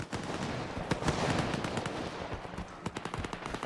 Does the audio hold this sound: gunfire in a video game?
yes